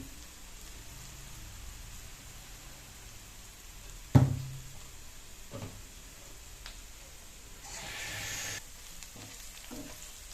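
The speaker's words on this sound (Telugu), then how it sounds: "కొంచెం వేగనివ్వాలండి తగినంత సాల్ట్ వేసుకోవాలి" Onions frying in a pan on high heat for tomato rice, a soft steady sizzle with a sharp utensil knock and scraping stirs, plus a brief louder burst of hiss near the end.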